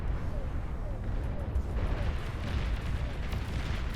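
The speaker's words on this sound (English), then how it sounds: "It looks to be long-range artillery somewhere over here." Long-range artillery firing in the strategy game Beyond All Reason, a dense rumbling stream of distant booms and blasts, with a voice talking over it.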